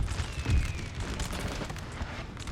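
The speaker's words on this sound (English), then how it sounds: "Plus the cannons are laying down fire." Cannon fire in a Napoleonic battle at Burgos in a strategy video game: a dull, low boom near the start, then a steady rumbling din of distant artillery and battle noise.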